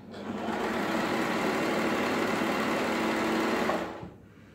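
A Janome 3522 sewing machine runs in one steady burst of about four seconds, a close, even whirring hum of rapid stitching that ramps up quickly and stops abruptly.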